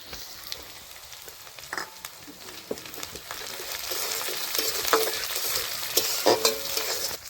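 Slit green chillies frying in hot oil and stirred in a pan, a continuous crackling sizzle with scraping and clattering from the stirring that grows denser and louder toward the end, no speech.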